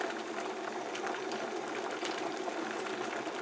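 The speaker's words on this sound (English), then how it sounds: "You'll probably hear it boiling." An electric kettle at a rolling boil gives a steady, dense hiss and bubbling rush that stays even and fairly faint from start to finish, with no voices.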